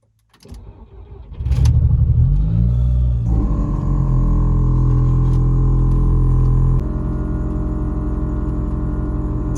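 A friend's car, parked beside an S54 project car, is started and then driven out of the way, its engine catching and then running loud and steady with a low rumble that eases slightly near the end, and no voices.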